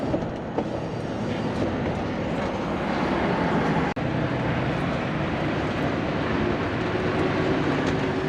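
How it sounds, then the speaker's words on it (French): Container freight train rolling past in a steady, loud, broadband roar with continuous rumble, heard from close by and without a break across the stretch. "Train de conteneur, là."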